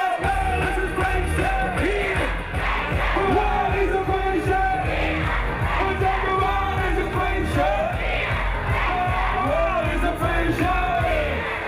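A young crowd at a live concert yells and cheers without letup over loud pounding music, a dense wall of whoops and shouts filling the whole stretch.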